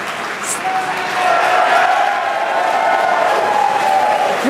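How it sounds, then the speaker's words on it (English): At a CRS-20 Dragon cargo rocket launch, a crowd cheers and applauds behind a close speaker. The roar swells into a loud, continuous wash of cheers and clapping. "Very exciting day, as you can hear the crowd behind me."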